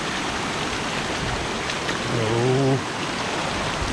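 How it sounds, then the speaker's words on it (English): Steady rushing water of a river stream as someone wades across it on a forgotten path to a waterfall in Bulgaria, loud and close throughout, with a brief voiced exclamation partway through. "I will go through the river."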